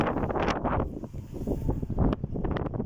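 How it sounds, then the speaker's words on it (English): Strong wind buffeting the microphone in loud, rumbling gusts that rise and fall without a break. "it's really, really windy out here today"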